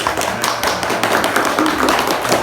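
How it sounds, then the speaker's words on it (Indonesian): An audience at a parenting talk on child psychology claps enthusiastically, with sharp, close hand claps forming a loud, busy patter throughout. "Boleh tepuk tangan dulu yang meriah."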